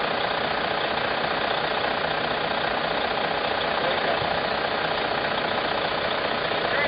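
A steady, continuous motor coach engine idling hum with a faint knocking texture, unchanging throughout, with no voices.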